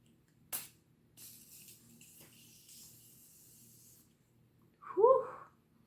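A short sharp spray hiss, then a longer soft misting spray lasting a few seconds, followed by a brief muffled vocal sound.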